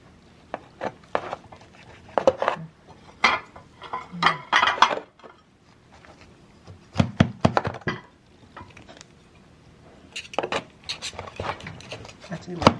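A knife saws and clinks through slices of a home-roasted Thanksgiving turkey in clustered bursts of scraping and tapping against a plate and board, with pauses between and people chatting nearby.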